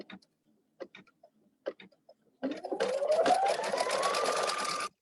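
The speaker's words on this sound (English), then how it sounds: "I'm just going to stitch across that line again" A sewing machine stitches across minky fabric on a lined zipper bag, running steadily and close after a few soft clicks and handling taps, no talking.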